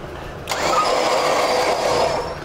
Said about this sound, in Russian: Сам мотор я практически оживил, но он жужжит.